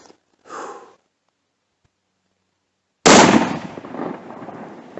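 Air rifle shot hitting a buck while hunting: a sharp, loud crack followed by a noisy decaying tail, preceded by a brief soft huff and quiet.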